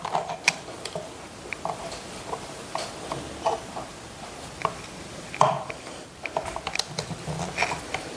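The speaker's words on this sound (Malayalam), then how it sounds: "രണ്ടാമത്തെ സ്ക്രൂ കൂടെ ഒന്ന് മുറുക്കി കൊടുക്കാവേ" A screw is tightened on a sewing machine, with small, sharp metallic ticks and clicks coming close in irregular bursts over a low, quiet background.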